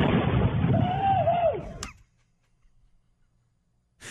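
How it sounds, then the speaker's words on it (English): A heavy fireworks blast booms and rumbles loudly for nearly two seconds, then cuts off into near silence with faint crackle, before another bang begins at the very end. "These are bombs. From setting off fireworks."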